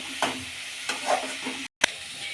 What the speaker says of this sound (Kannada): ಈರುಳ್ಳಿ ಚೆನ್ನಾಗಿ ಕುಕ್ ಹಾಕಬೇಕು ಬ್ರೌನ್ ಕಲರ್ ಬರಲಿ